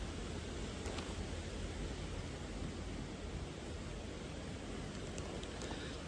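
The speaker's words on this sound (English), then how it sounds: "the rain has come down the valley in front of me" Steady rain falls across a valley, a dense, even hiss that holds at one level throughout, with no voices.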